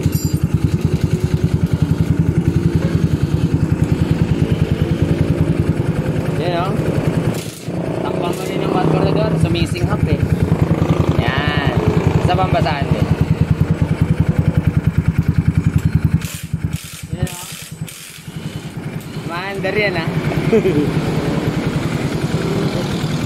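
A motorcycle fitted with big valves runs loud and close, its engine chugging and revving with a rough, steady pulse and a few brief dips, while people talk over it.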